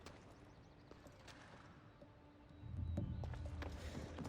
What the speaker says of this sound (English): Is that a horse down there?